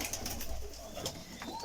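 Teddy golden pigeons cooing close by in a loft, soft repeated coos with a few brief wing flutters, no talking.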